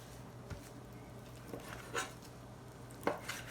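Seitan being cut into smaller pieces on a board, producing a few soft, scattered knife taps at irregular intervals over a faint steady hum, quiet and close.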